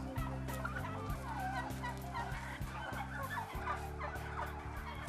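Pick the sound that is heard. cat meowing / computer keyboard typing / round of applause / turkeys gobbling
turkeys gobbling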